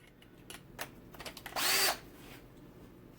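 A Makita 12V screwdriver drives screws, with a few light clicks and taps leading into one loud, close, high-pitched motor whir lasting about a third of a second before it stops.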